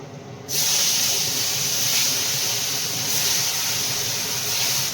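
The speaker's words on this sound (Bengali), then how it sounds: "মাছটা ভাজা হবে" Bhetki fish dropped into hot oil set off a sudden loud hiss that holds as a steady, close sizzle for the rest of the clip.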